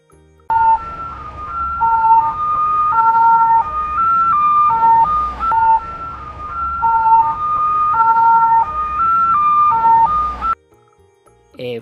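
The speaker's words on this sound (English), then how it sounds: "A for ambulance." An ambulance siren wails in a steady two-tone pattern, loud and close, cycling repeatedly for about ten seconds before cutting off.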